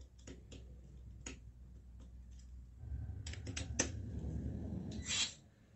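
A Deli 3.6V cordless electric screwdriver slips its torque clutch, giving a run of sharp, dry clicks scattered over a low motor whir that grows louder late on. The sound is close and fairly quiet, with no talk.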